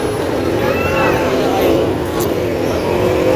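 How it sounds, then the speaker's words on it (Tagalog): Heavy, slow city street traffic with car and bus engines idling and rolling past, a continuous close rumble with a passing squeal, under nearby chatter. "Traffic pa rin."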